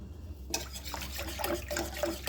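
A cup of water is poured for pizza batter, starting abruptly with a splashing, trickling stream that runs steadily to the end, close and moderately loud, with no talk.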